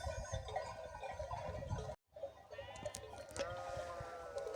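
Sheep bleating repeatedly at close range, several overlapping calls with a brief silent gap partway through.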